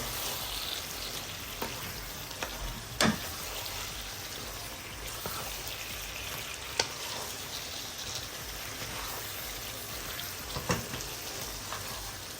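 Aubergine and potato curry simmers in a pan on low heat, giving a faint, steady sizzle and bubbling with occasional small pops, quiet and close.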